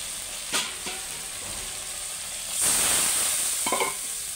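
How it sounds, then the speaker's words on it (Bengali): Spice paste with ginger and tomato, splashed with a little water, sizzles in a pan; a soft steady fry with a louder hissing burst midway and a few stirring knocks. "দিয়ে ভালো করে কষিয়ে নেবো।"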